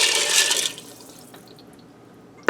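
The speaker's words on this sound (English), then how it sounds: "I'm going to dump in some water. That's 4 cups of water." Water pours noisily over dry pasta in a Ninja cooker with a Smart Lid for about half a second, then trickles off into faint drips, ending with a sharp click, with no voices.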